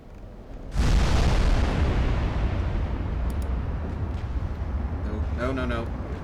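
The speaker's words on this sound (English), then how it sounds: "Big guns fire at that thing." Heavy naval gunfire and shell explosions from a battleship engagement in the video game Ultimate Admiral Dreadnoughts, with 16-inch guns, open on a sudden loud boom that rumbles on, with faint chirps and talk underneath.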